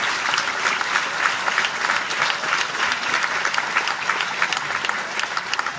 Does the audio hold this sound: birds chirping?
no